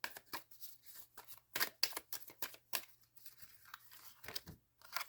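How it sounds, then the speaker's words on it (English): A deck of tarot cards is shuffled by hand up close, giving rapid bursts of crisp riffling and slapping with short pauses between them and no talk. "I am shuffling."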